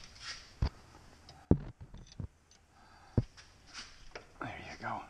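A wrench works on the transmission bolts of a 1953 Willys CJ3B Jeep during a clutch replacement, giving sparse, sharp metallic clicks and knocks spaced a second or so apart over a soft, breathy background.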